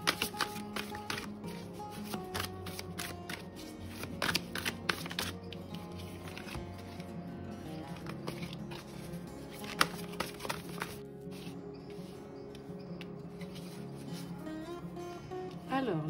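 Tarot cards shuffled by hand for a reading, a close, busy stream of papery riffles, slaps and snaps lasting about sixteen seconds, with short pauses between flurries.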